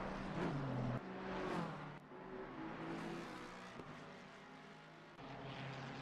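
Racing cars in a sim racing game as a BMW exits a corner, engines droning and shifting pitch in a continuous roar at moderate distance, with no talk over it.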